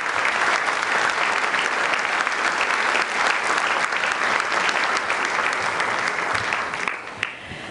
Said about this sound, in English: How about a big round of applause for the wonderful Carla Zampatti?